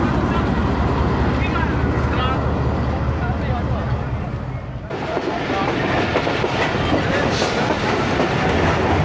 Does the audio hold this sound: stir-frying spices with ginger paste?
no